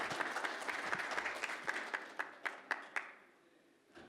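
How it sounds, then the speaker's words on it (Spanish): Audience applause at a technical mining conference, a steady wash of many hands clapping that thins into a few loud isolated claps before fading out. "Un fuerte aplauso"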